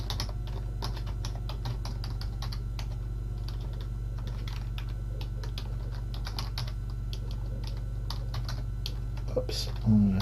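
Computer keyboard typing test code, a long run of rapid, irregular key clicks over a steady low hum, close and clear, with a brief pause near the end.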